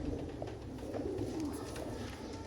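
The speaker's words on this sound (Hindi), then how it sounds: "आला परफॉर्मेंस वाला कबूतर।" A Sialkoti pigeon, a black-faced bird, coos softly and continuously close by against a steady background hiss, with no talking.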